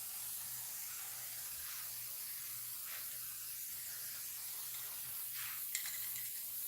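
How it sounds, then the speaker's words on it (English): Design Master spray paint hissing from an aerosol can in a steady, continuous spray that runs unbroken throughout, close but fairly quiet, with no talking. "It is Design Master spray paint."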